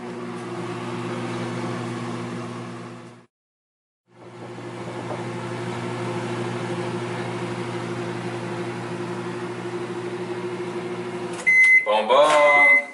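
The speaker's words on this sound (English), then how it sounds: "Flip it over on its other side and put it in the microwave for another 4 minutes" A microwave oven hums steadily while cooking a sweet potato, pausing briefly as the door opens and the potato is flipped, then running on before ending in a burst of loud beeps.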